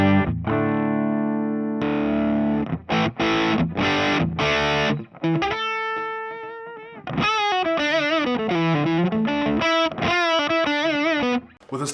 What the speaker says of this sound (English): So this is the Marshall clean.